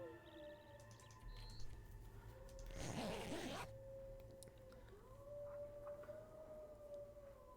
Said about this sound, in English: Oh, the wolves just need to shush.